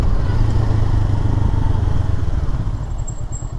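A 2023 Honda CBR 500 R motorcycle brakes during a road test of its front fork, its engine giving a loud, steady, close rumble throughout.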